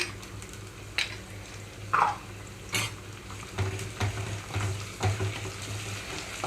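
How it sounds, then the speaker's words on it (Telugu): Onions, green chillies and ginger garlic paste fry in a pan over medium flame for aloo carrot kurma, giving a steady soft sizzle punctuated by close stirring clinks and scrapes. "అల్లం వెల్లుల్లి పేస్ట్ కూడా థర్టీ సెకండ్స్ అయినా కూడా చక్కగా వేగిపోవాలి"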